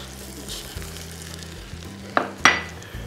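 Garlic fries in a pan for an Auvergne truffade, a soft steady sizzle with a couple of louder scraping stirs near the end, close by with no talking.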